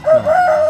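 A rooster's crow rings out close and loud, one drawn-out call filling the moment.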